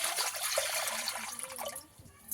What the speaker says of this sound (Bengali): এর মধ্যে কিছুটা জল দিয়ে দেব।